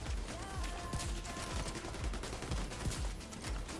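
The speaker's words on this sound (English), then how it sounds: "Is it the tank shooting those grenades?" Tank firing grenades in The Division 2 video game, a faint rapid series of thumping blasts and gunfire bursts in a busy combat mix.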